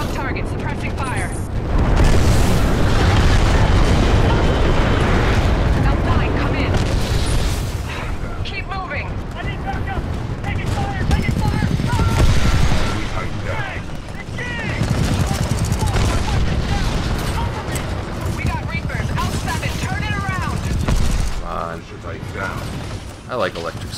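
Sustained gunfire and booming explosions from a Titanfall 2 campaign battle, dense and continuous for the whole stretch with someone talking over the chaos.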